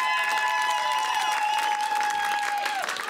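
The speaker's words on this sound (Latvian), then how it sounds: "Nu tad vēl skaļāk aplausi." Loud, sustained applause from an audience at the 2015 eXperiments final, with dense clapping and crowd noise running steadily throughout, while a high whistling tone sits over it.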